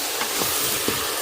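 Mutton frying in a pan without oil, with a steady close sizzle and a few soft stirring scrapes over one short stretch.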